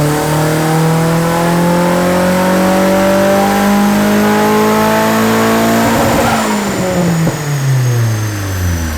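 Loud car engine straining through a dyno pull with extra ignition timing added at the top end, revs climbing steadily in a sustained rising drone, then lifting off near the end as pitch drops and exhaust crackles.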